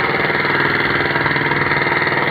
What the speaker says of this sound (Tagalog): Ito na din naman ang generator natin.